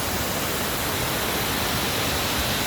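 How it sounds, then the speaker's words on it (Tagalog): Tinuy-an Falls, a very large waterfall, pours with a dense, steady roar of rushing water, loud and unbroken, with no voices. "Ganito pala yung napakalaking waterfall."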